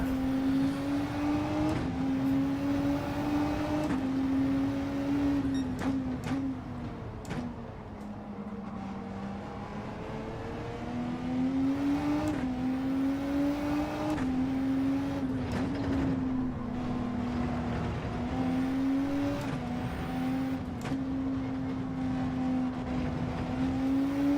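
A race car engine in Gran Turismo 7 on the Nordschleife drones steadily, its pitch rising and dipping through gear changes and corners, with no talking.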